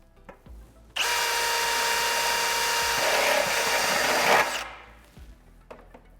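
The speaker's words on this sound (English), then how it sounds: "I am now going to drill a hole in the center of our outlet." A power drill bores a hole in the center of a Lindab metal duct outlet, a steady loud high whine lasting about three and a half seconds that starts abruptly and winds down, with small handling clicks before and after.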